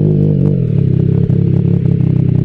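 A street motorcycle running on a straight pipe with no muffler roars loud and close, idling roughly, then revving in a rapid, pulsing rattle with no speech.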